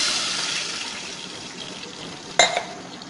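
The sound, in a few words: glass of water poured into frying cumin rice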